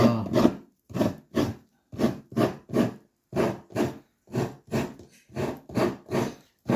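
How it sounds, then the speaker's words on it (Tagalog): Fresh coconut being grated slowly on a hand grater, a steady series of about a dozen distinct rasping strokes, each broken by a short pause, close and clear with nobody speaking. "O, yan, may kayuran. Kinakailangan dahan-dahan lang para pino yung ating niyog"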